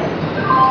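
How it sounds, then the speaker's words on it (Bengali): The first AC local train of the Ranaghat–Sealdah line pulls into Khardaha station, heard as a short loud rumble of wheels and carriages with a faint whine of brakes near the end. "চলে আসলো আমাদের ইস্টার্ন রেলের শিয়ালদা ডিভিশনের প্রথম এসি লোকাল, যেটা হচ্ছে রানাঘাট থেকে ছেড়ে শিয়ালদাতে পৌঁছাচ্ছে।"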